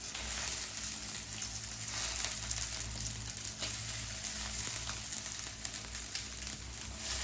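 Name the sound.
coriander stems sautéing in a pan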